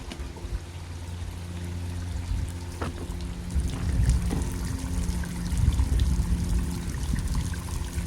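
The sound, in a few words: water draining from a vac trailer's water tank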